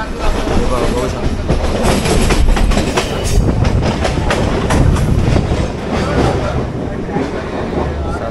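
A train rolls past Panvel railway station close by, its rumble and rhythmic clickety-clack of wheels on rails running loud and steady throughout, with faint voices underneath.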